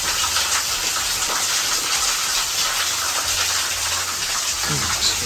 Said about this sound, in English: Have a look back towards the little waterfall.